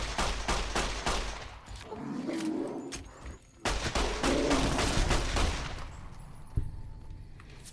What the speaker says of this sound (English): Just keep backing up and shooting.